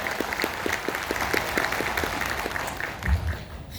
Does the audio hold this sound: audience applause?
yes